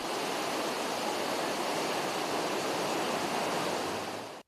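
A large volume of water rushing along the stream leading to the Juramento dam, a dense, loud, continuous roar with no pauses.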